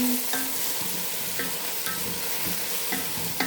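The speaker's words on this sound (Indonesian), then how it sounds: "Ini masak, goreng bawang merahnya" Shallots frying in a pan on a home stove give a steady close sizzle throughout, with faint clinks of a utensil stirring at intervals.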